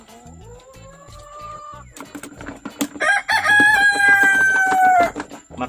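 Chickens cluck and a rooster crows loudly and close by in a rural Malaysian garden, several drawn-out crows rising over a steady background of clucking.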